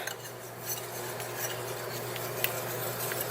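A utensil stirs brownie batter of egg mixture and microwave-melted chocolate chips in a bowl, giving soft, continuous scraping and a few faint clinks against the bowl, close and quiet with no talking.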